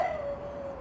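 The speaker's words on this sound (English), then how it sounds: "Neighbor's dog's barking at me." A neighbor's dog gives a drawn-out, howl-like whine in the distance, one steady tone for under a second over quiet room noise, with no talk.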